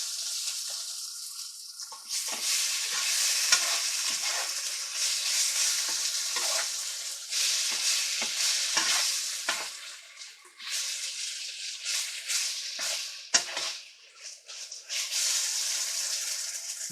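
Cubed pork frying in a pan for teriyaki, a steady close sizzle with intermittent stirring scrapes and small crackles throughout, no talking.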